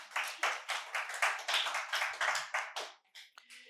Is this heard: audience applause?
yes